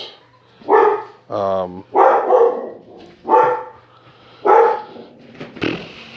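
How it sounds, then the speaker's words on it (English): A dog barks repeatedly and loudly, about five sharp barks with gaps between them, close by, with a brief whine mixed in. "my dog's going crazy"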